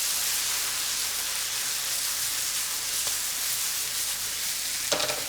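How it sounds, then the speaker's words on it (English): Pasta primavera vegetables sizzle steadily in a hot pan while being tossed, a loud continuous frying hiss with a couple of brief scraping clatters near the end, no voices. "So we'll toss this, and then we'll bring back the pasta"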